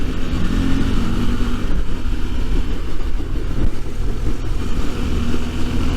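Adventure motorcycles out on a ride together, a V-Strom 650, a CRF450L and a CRF250L Rally, giving a steady loud engine drone with wind rush and small throttle changes, heard close from onboard.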